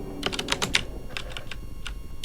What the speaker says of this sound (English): you're hearing the clickety-clack of a keyboard